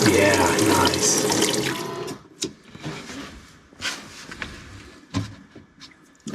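Water gushes loudly from a tap fed by a pump in a self-built camper van water system, a strong continuous rush for two seconds, then stopping, followed by quieter sputters, clunks and short bursts as air clears.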